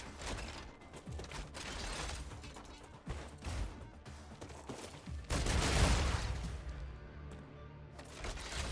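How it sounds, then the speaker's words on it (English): Mechanical clicks and clatter of gun magazines being swapped in the video game StarRupture, layered over dense, busy gameplay noise with a loud burst of gunfire-like crashing midway. "Changing mags."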